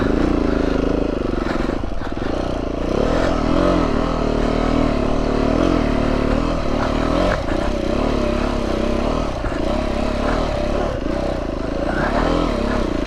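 An enduro motorcycle, a Beta 390 RR or BMW G650GS, revs continuously and loudly up close, its engine note rising and falling with clutch work over rough ground, with rattling and scraping mixed in.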